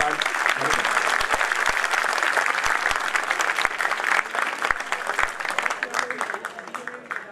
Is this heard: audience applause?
yes